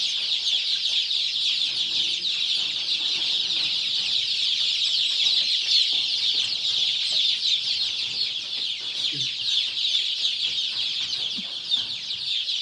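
Many 17-day-old free-range country chickens cheep and cluck together in a dense, constant chorus, loud and close, like a crowded poultry shed.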